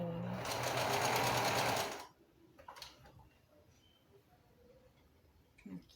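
A sewing machine stitches a folded hem on a baby look T-shirt, running in a fast steady burr for about two seconds before stopping, followed by quiet room tone and faint handling clicks.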